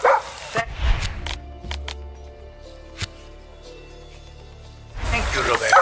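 A dog barks in Far Cry 6, with sharp yips near the start and again at the end around a quieter middle of ambient game sound and soft voices.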